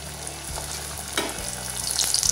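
Bhature dough frying in hot oil in a kadai gives a dense, bubbling sizzle that swells louder as the dough hits the oil, with faint stirring clinks, close up and without speech.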